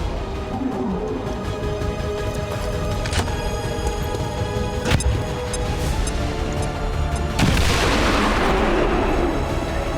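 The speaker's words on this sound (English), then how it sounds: "Throwing grenade!" A grenade explosion in the video game XCOM 2, heard as a few sharp booms followed by a louder burst with a rumbling tail, amid game background noise.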